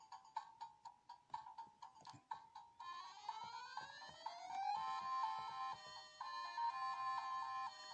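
Thin, beeping Ghostbusters game music plays quietly from a Sega 16-bit clone console, first a staccato repeated blip pattern, then a wavering synthesized melody with pitch slides.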